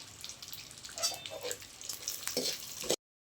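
Cashews, raisins and almonds fried in a pan for vermicelli kheer, with a soft crackling sizzle and a few light stirring scrapes before the sound cuts off abruptly.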